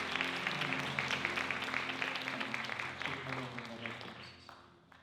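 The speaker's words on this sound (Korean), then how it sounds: "영광의 박수 크게 올려드리겠습니다." A church congregation applauds during a Sunday worship service, a dense wash of clapping that starts full and gradually fades out toward the end.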